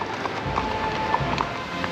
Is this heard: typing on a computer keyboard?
no